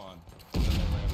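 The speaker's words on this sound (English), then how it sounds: "They're shooting randomly." Gunfire in the Civil War shooter War of Rights: after a quieter stretch, a loud, dense burst of rifle fire and booming erupts halfway through and keeps going close up.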